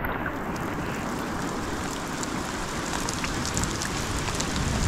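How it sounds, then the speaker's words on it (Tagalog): Heavy rain pours steadily around a boat at sea, a dense, even hiss of drops on water and surfaces with no letup across the whole stretch. "Lakas ang ulan."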